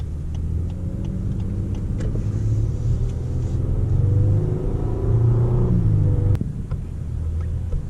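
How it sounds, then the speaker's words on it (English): A Lexus LS500 twin-turbo V6 sedan pulls away from close by, its rumble rising in pitch and loudness as it accelerates, then dropping back after a gear change near the end, with no talking. "But let's see how the twin turbo V6 does."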